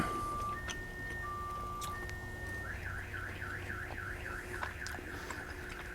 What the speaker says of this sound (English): serenaded by a car alarm